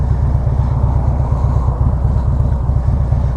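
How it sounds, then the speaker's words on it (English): A Harley-Davidson Street Glide Special engine with Vance & Hines exhaust rumbles steadily with a deep, throbbing exhaust note, loud and continuous throughout. "Exhaust sounds really good"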